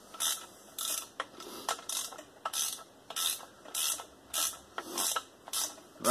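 A ratchet tightens a connecting rod cap on a Chevy 350 engine build, giving repeated close, crisp clicking bursts in a steady back-and-forth rhythm, with no talking.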